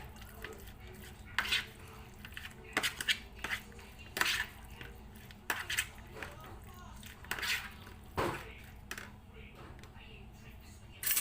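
Chicken being mixed with ginger garlic paste and red chili in a bowl, soft wet squelching and occasional clinks of a utensil against the dish, faint and intermittent beneath a person talking.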